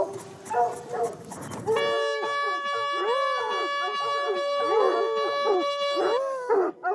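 Hunting hounds bay and howl in overlapping, drawn-out cries during a hunt in a forest, loud and continuous after a brief burst of other noise at the start, with a steady tonal hum running underneath.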